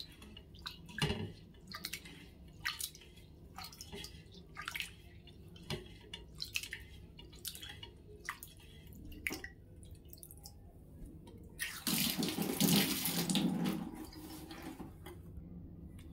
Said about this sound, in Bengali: চালটা আগে ভালো করে ধুয়ে ভাতটা বসিয়ে নেওয়া যাক